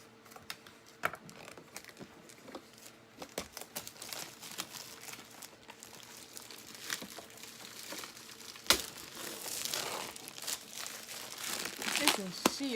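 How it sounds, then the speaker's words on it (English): Plastic packaging around a new Cricut machine is pulled and torn open, giving irregular crinkling, rustling and sharp crackles that grow busier and louder toward the end, with faint talking in the background. "Okay, so now we're going to go ahead and get the plastic open."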